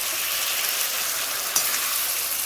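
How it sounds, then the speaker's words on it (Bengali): Chicken sautés in oil for an aloo chicken curry, a steady, dense sizzle and crackle from the pan with one brief stirring knock midway, close and continuous without speech. "দেখো এখনই তেল কত ছেড়ে দিয়েছে চিকেনটা দেওয়ার পরেই। আমি এটা 10 মিনিটের মতন কষাবো।"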